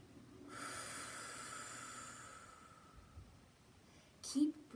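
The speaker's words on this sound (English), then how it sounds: "Breathe out." A single slow, soft exhale during a children's mindfulness breathing exercise: a long, gentle airy breath that fades out, followed by a brief nasal snort-like sound near the end.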